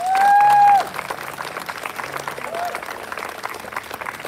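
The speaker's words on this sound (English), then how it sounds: "Let's give a quick round of applause for Miss Marshall's homeroom." Applause for a school homeroom class at a historical march event, a broad steady patter of clapping following a brief sustained tone at the start and continuing evenly to the end.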